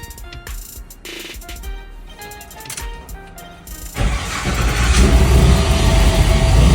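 An LS-swapped car engine cranks and catches about midway, then runs loudly up close with a rough, steady roar after a quieter stretch of faint clicks and hum.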